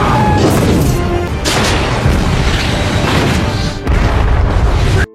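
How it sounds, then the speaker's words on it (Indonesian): An aircraft crashing and exploding in an Avatar film, heard as a loud, dense sequence of booms, crashes and smashing impacts that fills the whole stretch, with a short break near the end, no voices. "Akhirnya pesawat itu jatuh dan meledak."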